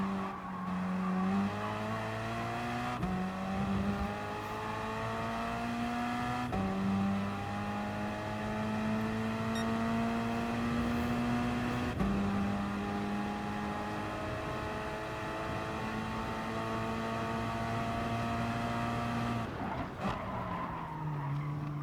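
Race cars in Gran Turismo Sport lap the Autopolis short circuit in a Gr.4 race, engines droning steadily with rising and falling pitch through gear changes, plus occasional tire squeal, loud and continuous throughout.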